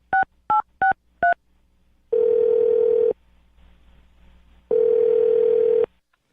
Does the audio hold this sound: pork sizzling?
no